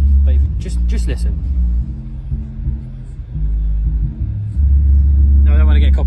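Heavy, throbbing bass from the stereo of a Vauxhall Corsa booms through the cabin at close range, loud and continuous, while someone talks over it.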